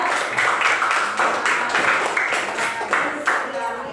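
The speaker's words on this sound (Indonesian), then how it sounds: "Ya, tepuk tangan untuk kelompok 3." Classroom of students clapping together for a student group, a loud, close burst of rhythmic group clapping in quick repeated beats, sustained throughout.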